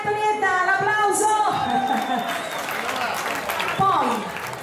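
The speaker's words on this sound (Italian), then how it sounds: "Vai Antonietta, l'applauso" Crowd applause and cheering for Antonietta at a festive restaurant party with an orchestra, spreading through the room under a speaking voice and some music.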